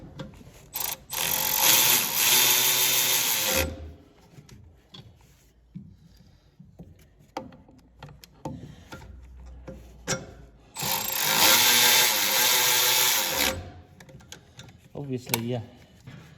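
Battery impact wrench driving cap head screws into the muff coupling of a Först TR8 D55 wood chipper, in two loud sustained bursts of about three seconds each, with clanks, handling and speech in between.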